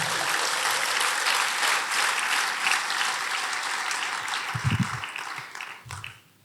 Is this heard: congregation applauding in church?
yes